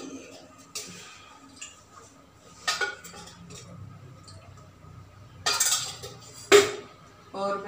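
Pots, lids, a pressure cooker and utensils clink and clatter in scattered bursts, some sharp metallic hits standing out over quiet kitchen background.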